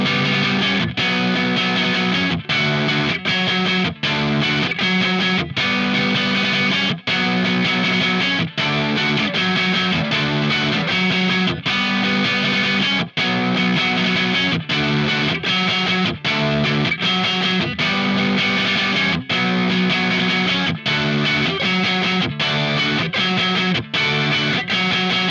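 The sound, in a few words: distorted guitar playing chorus of Incubus Rogues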